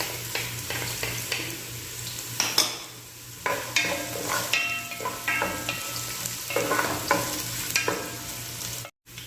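Garlic sautés in a pan with ginger already added, the base for ginataang langka jackfruit stew. A busy close-up sizzle runs throughout, broken by irregular clattering strokes of a spoon against the pan.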